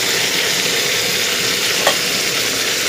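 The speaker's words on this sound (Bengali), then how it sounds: "আমি এটাকে একটু তেলেতে খুব সুন্দরভাবে নেড়ে চেড়ে নেব" Okra cut into long slices frying in oil, a loud, close, steady sizzle and hiss with soft stirring and one brief scrape of a utensil, no voices.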